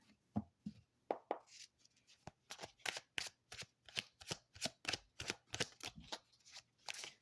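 Tarot cards shuffled by hand in a steady run of crisp riffles and soft slaps, close up and fairly quiet, with no talking.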